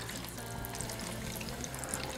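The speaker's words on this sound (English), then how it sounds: "Ooh, listen to that bubbling." Chicken frying in hot oil gives a steady, dense bubbling and crackling sizzle, close and continuous, with no talking.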